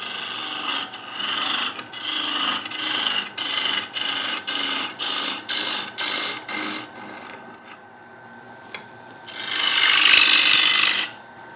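A woodturning tool cuts down the base of a small quarter-sawn wooden dish on a lathe, giving a rhythmic series of scraping strokes, then a pause and one louder, brighter cut near the end.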